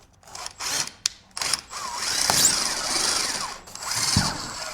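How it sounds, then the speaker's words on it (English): A power drill boring a pilot hole through drywall to set primed hidden supports, running in short bursts with a longer steady whir in the middle and a few bumps and scrapes at close range. "Let's do a pilot hole."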